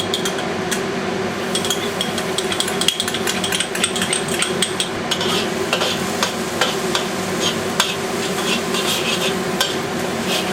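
Garlic frying in vegetable oil in a wok, with continuous sizzle and repeated scraping and clinking of a utensil stirring it, close and steady with no talk.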